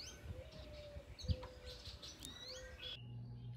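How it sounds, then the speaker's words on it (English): Several wild birds chirp and tweet in the distance over a faint outdoor hum, with a brief low thump partway through. "if you just go outside and be really quiet, you can hear them."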